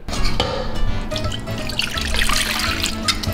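Water pouring and trickling into cake batter in a bowl nearby, with small drips and splashes over a few seconds.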